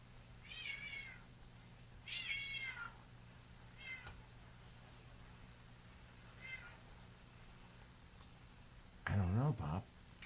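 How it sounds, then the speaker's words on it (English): A cat under a table gives several meows spaced across the clip, mostly moderate and a little distant, with a louder, closer meow near the end and a quiet steady hum beneath. "Oh, look at the cat under the table."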